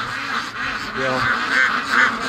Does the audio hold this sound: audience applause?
no